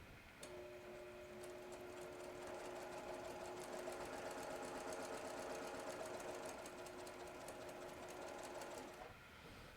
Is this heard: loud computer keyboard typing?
no